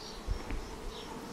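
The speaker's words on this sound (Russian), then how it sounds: "А на поилке пчелки уже летают, уже несут воду как раз в те ульи, которые на солнцепеке стоят." Honeybees buzz around hives and a water trough at an apiary on a hot day, a soft continuous drone with a few brief louder passes close by.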